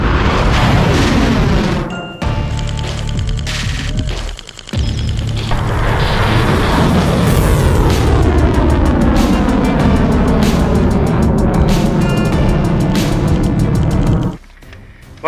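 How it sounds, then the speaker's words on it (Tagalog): A US Typhon missile system launches with a loud, sustained roaring blast that swells and then cuts off, a distinct boom partway through, and no voices. "ipinasilip rin ng Amerika kung paano pumutok ang kanilang Typhoon missile system na kaya umanong abutin ang China"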